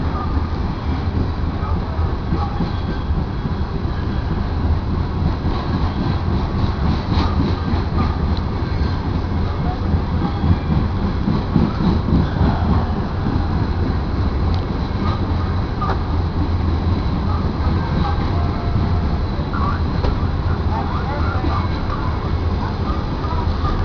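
A Union Pacific freight train rolling past near a Geneva station, a continuous loud rumble with rhythmic wheel clatter and rail noise that stays close and steady throughout, with faint talk mixed in.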